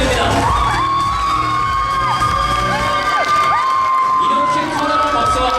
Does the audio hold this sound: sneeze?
no